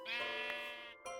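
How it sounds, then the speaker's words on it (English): A sheep bleating in the video game Minecraft, one loud, near, wavering bleat lasting about a second, followed by the start of another. "it's a herd of sheep, isn't it?"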